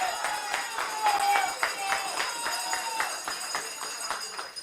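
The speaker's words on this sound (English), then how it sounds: "Give them a round of applause." Scattered clapping from the audience at a JLP Young Jamaica chapter launch in Central Kingston, with irregular handclaps forming a light, uneven patter over a murmuring room rather than a full ovation.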